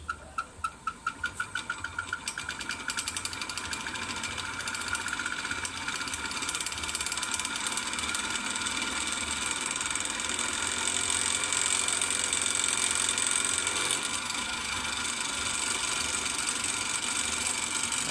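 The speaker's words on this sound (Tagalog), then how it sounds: "maririnig mo talaga yung kalansing kasi bakal to bakal yung nagbabanggaan" A 24 V, 250 W stainless steel paddle wheel aerator in a live tilapia and catfish pond runs steadily, its metal parts clanking against each other in a continuous rapid ratcheting rattle over a mechanical hum, close and constant with no talking.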